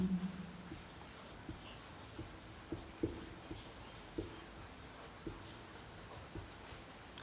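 Chalk or marker scratching on a classroom board in short strokes and taps, spaced irregularly with a few sharper ticks, fairly quiet and heard alone.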